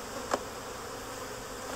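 Honey bees from newly installed bee packages hum around an Apimaye hive. Their buzz is a continuous, fairly soft drone, with one brief louder pass close to the microphone.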